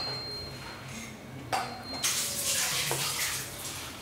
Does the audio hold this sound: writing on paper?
no